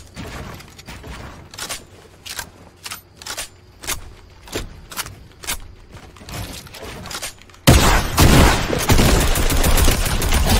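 Rapid bursts of gunfire from a Fortnite Battle Royale duos match, a dozen sharp shots in an uneven rhythm, then a sudden loud, dense wash of sound over the final three seconds.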